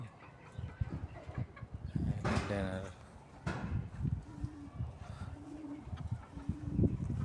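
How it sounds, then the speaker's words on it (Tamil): Soft pigeon coos sound nearby among other birds on a farm in Wafra, Kuwait, with a person talking over them and some chicken-like clucking mixed in. "புறாவும் இருக்குது."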